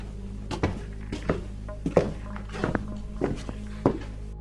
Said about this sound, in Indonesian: Lalu terdengar suara benturan antara sepatu dan lantai. Langkah kaki orang berjalan.